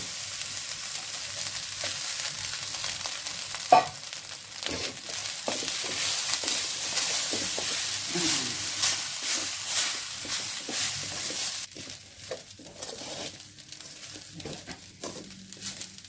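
Rice stirred into fried potatoes in a pan, a constant bright frying sizzle with intermittent scraping and knocks of a spoon against the pan, close; the sizzle drops away near the end, leaving quieter stirring.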